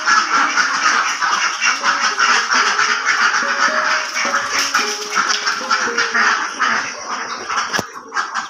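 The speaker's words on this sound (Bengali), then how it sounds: "এটা আমাদের হাঁসের ফার্ম।" A flock of farm ducks quacking loudly and nonstop, many overlapping nasal calls close by, with no voices over them.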